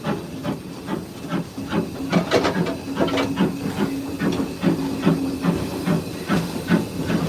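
Steam locomotive on the Isle of Wight Steam Railway with the regulator opened, giving a steady hiss of steam beneath rhythmic exhaust chuffs and a sustained tone, heard from the cab without talk.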